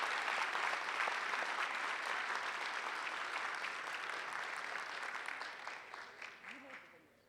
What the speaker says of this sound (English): if everybody would love to give them a round of applause before we start the video